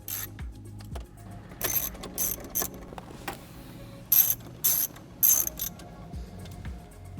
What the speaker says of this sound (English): we're going to reinstall the 4 screws holding the screen into place